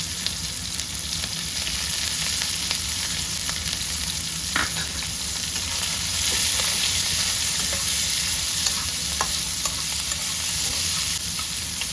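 Onions fry in hot oil with garlic and chopped green chili, a dense, loud, continuous sizzle that stays steady from start to finish, with no voices.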